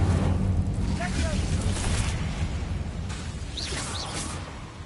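A fiery Incendio spell from the Hogwarts Legacy game erupts in a loud broadband whoosh and roar that holds steady for about five seconds, with voices mixed into the battle noise.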